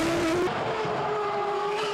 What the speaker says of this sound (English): with a scream of the BMW engine in his Williams Formula One car